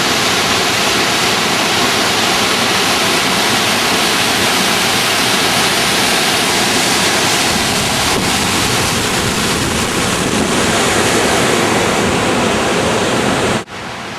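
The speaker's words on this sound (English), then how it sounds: "We got Bubbs Creek flowing right behind us." A constant, loud rush of Bubbs Creek flowing close by, broad and unbroken like a fast creek running over rocks.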